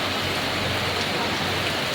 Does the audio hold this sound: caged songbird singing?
no